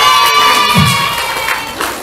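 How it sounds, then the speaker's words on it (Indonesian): A room of high school students at a creativity training session cheers and shouts over scattered clapping, a loud, bright burst of young voices with a brief lower whoop. "Oke, tepuk tangan."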